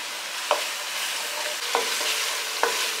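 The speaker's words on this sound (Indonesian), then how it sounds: "Kita aduk." A spoon stirring coriander and spices frying in a pot for beef nasi kebuli, a steady close sizzle with three distinct scraping clinks spread across it.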